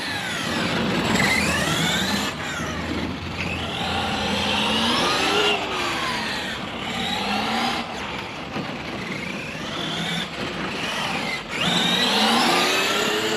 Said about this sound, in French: le moteur il plafonne en fait en haut dans les tours